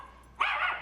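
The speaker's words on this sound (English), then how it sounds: "those are the 3 dogs" A single dog gives one sharp bark after a brief near-silence, fairly close and moderately loud, ringing out alone for about half a second.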